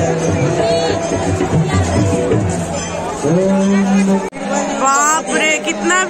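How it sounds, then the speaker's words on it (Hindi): A large festive crowd packs Dashashwamedh Ghat in Varanasi during Ganga aarti, a loud babble of many voices with a nearby vehicle horn and a sudden brief drop partway through. "बाप रे, कितना भीड़ है आप देख रहे हो"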